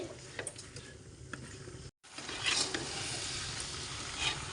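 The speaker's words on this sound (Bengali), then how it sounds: "তেলের মধ্যে আমি আমটাকে ভালোভাবে নেড়ে ছেড়ে নিচ্ছি" Sun-dried mango pieces stirred and fried in oil in a pan for mango pickle: a soft, close sizzle with light scraping and ticking from the stirring, broken by a brief silent gap.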